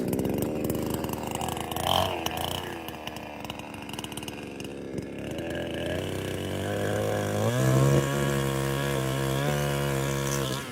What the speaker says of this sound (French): Je peux enfin reprendre la coupe où j'avais coincé ma tronçonneuse.